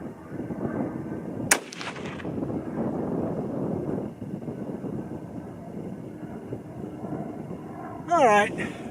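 A single sharp, loud shot from an 8mm Mauser 8x57mm rifle firing handloaded ammunition outdoors, followed by wind and background rumble with people talking nearby.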